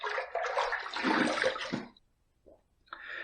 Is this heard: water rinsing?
yes